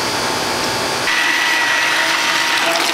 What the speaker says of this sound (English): we're now going to puree it using a motion blender